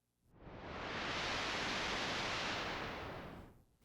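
Synthesized noise passed through a high-pass filter and an amplifier: a steady broadband hiss that fades in, holds level for about three seconds, then fades out, heard alone.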